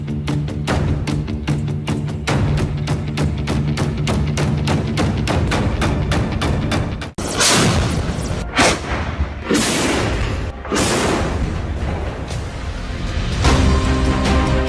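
Ceremonial 21-gun artillery salute fired from Made in India guns, a rapid run of regular booming thuds followed by heavier, more spaced blasts with rolling echoes, loud and continuous over fifteen seconds.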